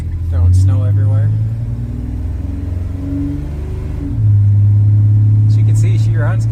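A Chevy C1500 truck with a swapped LS engine drives with a steady low engine rumble. It rises and holds louder near the end, with occasional voices over it.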